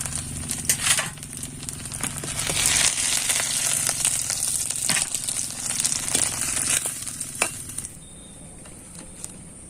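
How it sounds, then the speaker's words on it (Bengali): Flour-wrapped potato rolls deep-frying in oil, a bright continuous sizzle with scattered crackles and occasional clinks, steady for most of the stretch before the sizzle abruptly drops to a quieter hiss near the end. "এইভাবে করেই কিন্তু আমি বাকিগুলো ভেজে নেব"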